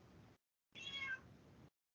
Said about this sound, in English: Little Mew's meowing